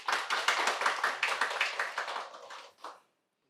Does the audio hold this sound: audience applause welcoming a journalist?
yes